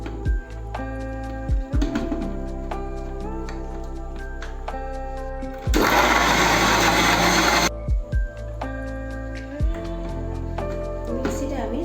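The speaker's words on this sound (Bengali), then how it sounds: "নিয়ে এটা এবার আমি মিক্সিতে একটু গ্রাইন্ড করে নেব।" A kitchen mixer grinder whirs for about two seconds as it blends ripe mango pieces, a loud harsh burst that starts and stops abruptly. Tinkling background music plays before and after.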